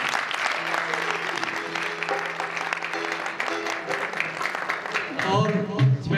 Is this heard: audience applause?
yes